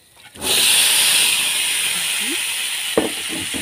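Pork dropped into a hot, dry wok with a spoonful of salt bursts into a loud, steady hiss that starts abruptly and holds strong, with a few clatters near the end.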